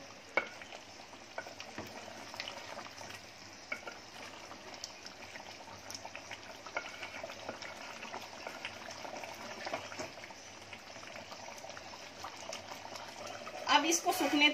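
Prawns fry with salt in a pan, a soft steady sizzle with light spoon scrapes and taps throughout, faint and close, with a louder clatter at the very end.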